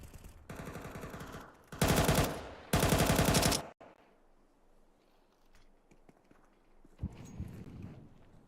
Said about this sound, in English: A missed shot from Xcloud, and Maka will push through to main as well